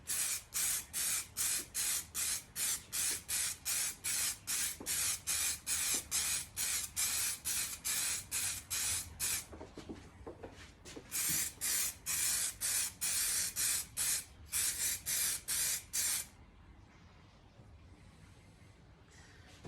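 Repeated short hissing bursts from a spray can or gun laying a second coat of lacquer on an MG Maestro Turbo part, fired in quick regular pulses, then a pause and a few longer sprays, heard close and alone.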